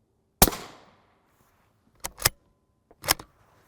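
An M855A1 rifle round is fired at a Hexar Level IV rigid armor plate, alongside M2AP armor-piercing shots. There are three or four sharp, loud outdoor cracks, the first with a short decaying tail and two close together.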